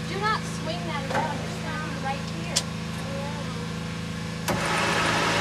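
An electric motor from an EV conversion spins a car transmission in fourth gear, producing a steady whine with a rising tonal pitch, close by, while a person talks briefly over it and a few sharp clicks sound.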